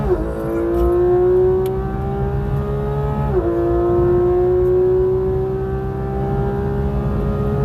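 A Porsche GT3RS in PDK Sport launching hard, its engine screaming steadily higher, one quick gearshift dip midway, then climbing again, loud and close throughout with no talk.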